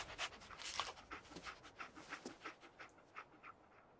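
Dogmeat, the dog companion in Fallout 4, panting in a fast, rhythmic string of short breathy huffs, fairly quiet and close, with no speech.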